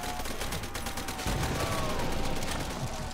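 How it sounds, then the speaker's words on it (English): Dense crackling bursts and rumbling blasts from napalm claymore explosions in Call of Duty: World at War custom zombies, continuous and loud throughout. "It's a napalm claymore."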